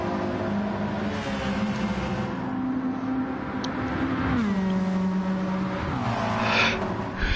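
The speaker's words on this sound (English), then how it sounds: "So Eddie starts his first flying lap" Race car engines in a racing video game drone continuously through a flying lap, pitch holding steady then dropping on downshifts and climbing again, loud and close with no voices over them.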